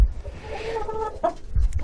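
A rooster and hens in a backyard poultry coop give short, close clucks and throaty calls, with a brief burst of low rustling near the end.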